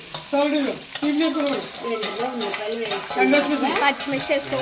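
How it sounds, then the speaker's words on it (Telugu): Onions fry in a pan just after fenugreek powder goes in, giving a constant sizzle with stirring while someone talks over it. "మెంతి పొడి వేసుకున్నాక వెంటనే ఉల్లిపాయలు వేసుకోవాలి"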